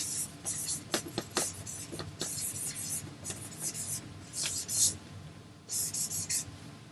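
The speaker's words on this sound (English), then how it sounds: "I'll write this down for you. Sorry, my marker's getting dry." A drying marker squeaks and scratches across a whiteboard as words are written out, with short strokes in bursts and pauses between them against steady room noise.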